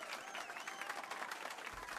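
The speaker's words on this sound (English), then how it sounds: "Let's give our pianist a warm round of applause." Game crowd applause for a pianist's performance in Final Fantasy VII Rebirth, a steady dense wash of clapping sustained throughout, with faint voices mixed in.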